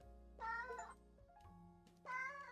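A cartoon cat in the video game 100 Capitalist Cats gives two short, bright meows separated by a pause, heard quietly over soft background game music.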